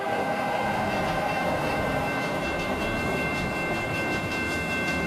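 A train rolls past with a steady, loud rumble and a high metallic whine, continuous throughout with no voices.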